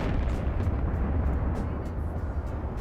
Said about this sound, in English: Am I firing all turrets?